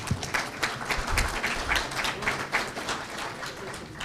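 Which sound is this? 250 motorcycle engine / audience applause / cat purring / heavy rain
audience applause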